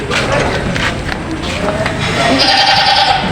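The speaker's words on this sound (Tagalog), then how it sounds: "May malalaking kambing sila dito." Goats bleat close by at a livestock market in Padre Garcia, Batangas, amid a noisy crowd with people talking, one drawn-out bleat standing out near the end.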